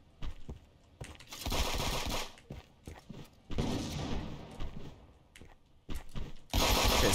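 Buckshot gunfire in the game Friends vs Friends, several loud bursts of rapid shotgun blasts separated by short gaps, with the last burst cut off at the end.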